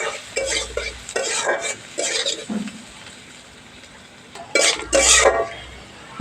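Chopped onions frying in a pan for egg curry are stirred with a utensil, giving repeated close scraping and clattering strokes in uneven bursts over a soft sizzle.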